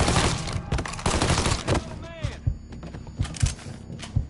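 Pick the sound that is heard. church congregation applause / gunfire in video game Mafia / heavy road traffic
gunfire in video game Mafia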